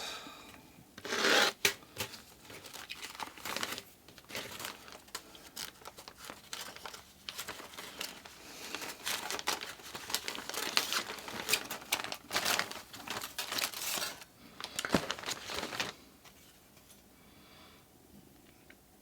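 Cutting a tender body out of a brass etch for a DJH 2MT 2-6-0 locomotive kit: faint, close, irregular scraping and snipping with brief crackly bursts, continuing unevenly for many seconds before tailing off.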